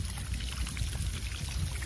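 Irrigation water pours and gurgles steadily into a farm field, a continuous low rushing wash at moderate volume with no voices.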